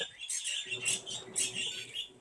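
Birds chirp softly in the background, a few quick high tweets repeating in short bursts over a faint low hum.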